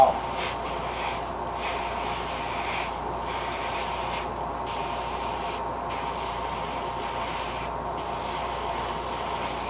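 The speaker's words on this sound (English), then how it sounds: "keep our pressure about 18 pounds is what it said on there. So, let's make this lure pink for Miss Hunter" An airbrush sprays pink paint onto a fishing lure at about 18 psi, producing a steady, close, airy hiss that briefly thins several times as the trigger is eased.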